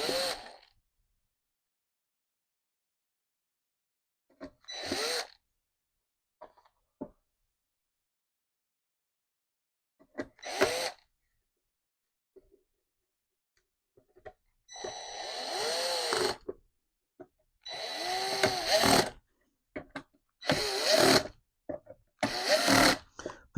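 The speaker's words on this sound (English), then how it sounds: "The clicking sound you're hearing, in case you're not familiar with this, I have a torque setting on this little drill driver." A small Milwaukee drill driver running in short repeated bursts, its torque clutch slipping and ratcheting as it drives screws while a Metabo router is mounted in a Rockler mini router table, with quiet pauses between the bursts.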